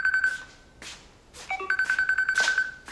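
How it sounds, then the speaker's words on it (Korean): A telephone rings for an incoming call from an unknown number, with a steady electronic tone and a burst of trilling chirps, while faint clicks and soft noise sit beneath. "성안에게 모르는 번호로 전화가 왔지요."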